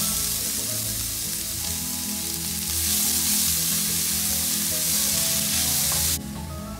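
Cut garlic, ginger and onion frying in a pan on the stove, a loud, close, continuous sizzle that swells midway and then drops suddenly near the end, with no voices.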